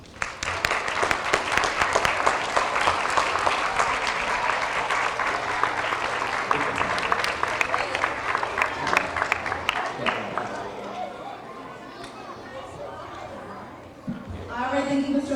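Applause for young learners at a Pre-K to third grade character education assembly, lively crowd clapping with children's chatter, thinning into a quieter murmur of voices before a brief renewed burst at the end.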